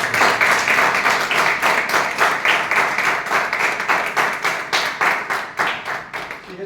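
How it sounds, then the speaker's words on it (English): An audience at a team meeting applauds, loud, even clapping from many hands sustained for the whole stretch with no talk over it. "I would like everyone to applaud"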